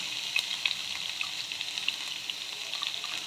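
Capsicum, green chili and ginger sauté in a pan with a steady, close sizzle and hiss, and small pops crackle now and then throughout.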